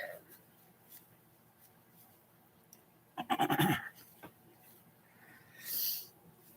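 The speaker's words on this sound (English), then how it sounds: "Have to blow my nose." A person blows their nose in one short, forceful burst of under a second, with a fainter puff afterward, in an otherwise quiet indoor room during a makeup session.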